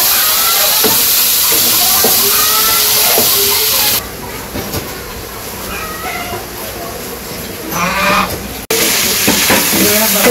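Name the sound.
vegetables with cauliflower and spices sautéing in a pan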